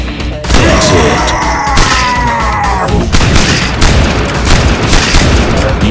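Dense, loud gunfire and explosions fill a firefight in the video game Evolution: Battle For Utopia, with rapid bursts and heavy booms overlapping continuously.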